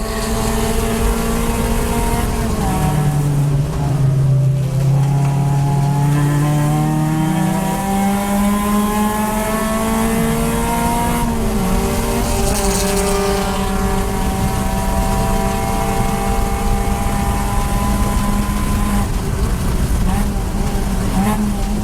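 Race car engine droning loud and continuous at Clark Speedway during an endurance race while chasing a Honda Civic, pitch rising and falling through gear changes, with someone talking over it.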